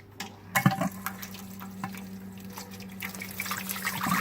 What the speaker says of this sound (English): I'll tip this out, put some fresh water in, run some fresh water through it